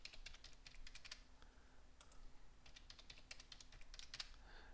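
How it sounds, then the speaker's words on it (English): Someone types a new administrator password on a computer keyboard, with quick bursts of key clicks, a few rapid keystrokes separated by short pauses over steady low background hum. "just type in the new administrator password that we want to have and retype it"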